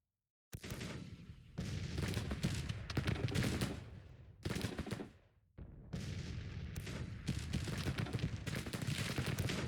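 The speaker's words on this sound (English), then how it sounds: "Start firing on those cannons." Cannon and artillery fire in the Civil War strategy game Grand Tactician, loud overlapping booming volleys in several long bursts separated by brief pauses, with no talk over them.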